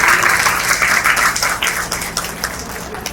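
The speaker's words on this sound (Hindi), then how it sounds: "उनके लिए भी आप लोग एक बार ताली बजाएं जोर से" A crowd at a women's empowerment aid event claps loudly together, a dense wash of applause that starts strong and gradually thins out, with no talk over it.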